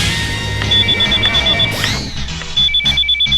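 A telephone rings in a Bhojpuri film scene: a pulsing electronic ring tone repeats in quick beeps over the background of the scene.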